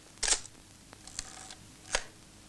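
Film camera shutter firing in a 1982 Soviet film scene, three sharp mechanical clicks at irregular intervals with a faint whirring between them, close and fairly quiet, with no speech.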